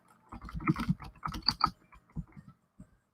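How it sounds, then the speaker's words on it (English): Typing on a computer keyboard during a home webinar session, a quick run of clicky keystrokes in uneven bursts, fairly close and moderately quiet, with no voices. "Sorry for typing."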